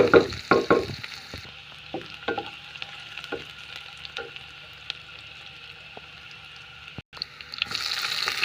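Onions sautéing in a pan for a Tamil-style chicken kuzhambu, a steady soft sizzle with scattered stirring clicks and scrapes, fairly close and alone, with a brief drop out near the end.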